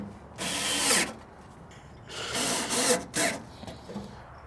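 A small drill tightens bolts on a grill hopper in a few short bursts, quiet and close, with pauses between each run.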